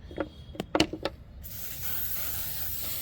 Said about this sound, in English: before starting the pruning, I use a sanitizer spray on my tools